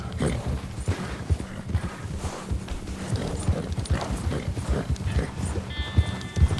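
Horse hooves clip-clop at a steady walking pace through Red Dead Redemption 2, fresh out of snow and heading toward the Grizzlies, with rhythmic near thuds running the whole time under ambient game sound.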